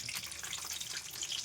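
Mustard seeds, garlic, dried red chillies and curry leaves crackle in hot oil for a tempering, a steady dense sizzle with fine popping that holds throughout, close and fairly loud with no talking.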